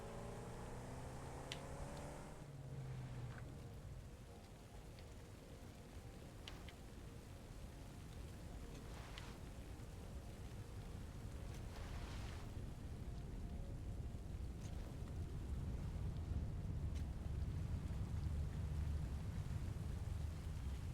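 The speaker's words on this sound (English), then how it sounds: "Oh yeah, you can actually see the rain out here." Rain falls in the video game Satisfactory, a steady faint hiss of drops with low rumbling underneath that swells gradually over twenty seconds, no voices.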